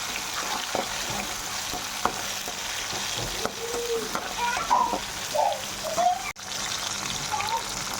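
Tomato pieces frying in a pan for capsicum rice, a moderate sizzle with stirring scrapes and wet splattering bits, close, with a sharp knock partway through.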